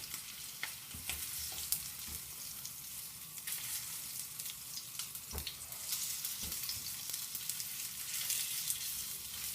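Beef for a steak and ale pie browns in a hot frying pan with a constant loud sizzle and scattered crackling pops, close up, with no talk.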